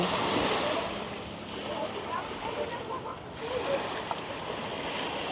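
Sea waves wash continuously at a shallow beach in Pangasinan, Philippines, with wind buffeting the microphone, a broad rushing sound with faint voices of swimmers in the background.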